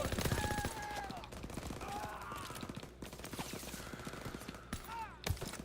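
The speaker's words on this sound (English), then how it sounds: "Oh, wow. I had one bullet in the clip. I just shot my teammate." Rapid video game gunfire in a World War shooter-style match, bursts of automatic shots and single cracks crowding the whole stretch, with game music and sound effects layered underneath.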